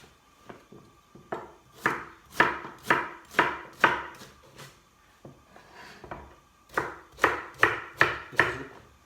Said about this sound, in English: we're just going to chop it up small